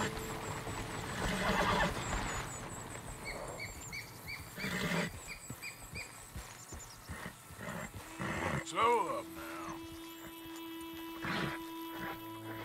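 A horse whinnying and snorting in the video game Red Dead Redemption 2, several agitated calls of rising and falling pitch over game sounds and music, with a person talking throughout.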